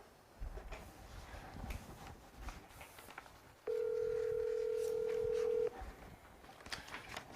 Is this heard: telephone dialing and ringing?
yes